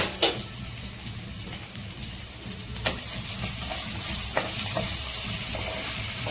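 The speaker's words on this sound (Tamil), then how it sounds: "ஆனியன் வந்து வதங்கட்டும்" Onions sautéing in a pan for a yogurt chicken gravy with rampe leaf, giving a steady close sizzle with a few faint stirring scrapes and no talking.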